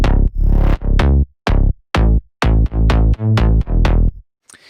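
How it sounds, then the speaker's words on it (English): A punchy slap house synth bass line plays alone in short, bouncy rhythmic notes with sharp attacks and brief gaps, loud and close. "Okay, so we'll start off with the bass line, and that sounds like this."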